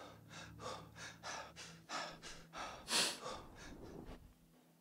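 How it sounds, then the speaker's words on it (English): A Starfield game character breathes heavily in a series of about a dozen rhythmic, close gasping inhales and exhales, with one sharper, louder breath near the end, against a faint low hum. "Lovely breathing noises too."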